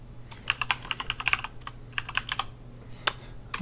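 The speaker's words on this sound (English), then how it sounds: "I'm going to type out" Quiet, close typing on a computer keyboard: irregular bursts of light key clicks with brief pauses and one sharper keystroke near the end.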